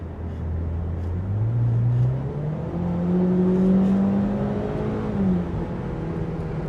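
A stock Mitsubishi Evo X with automatic SST gearbox accelerates on a road, the engine note climbing steadily through a gear, then dropping at a shift and rising again, heard from inside the car.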